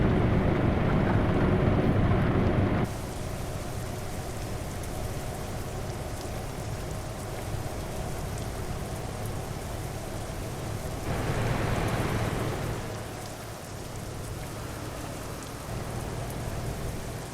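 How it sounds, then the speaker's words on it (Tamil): Steady rain pours down in the Euro Truck Simulator 2 driving game, a dense continuous hiss that stays loud throughout, swelling briefly near the end over a low rumbling undertone from the truck. "மழை நல்லா பெய்யுது பாருங்க இந்த இடத்துல."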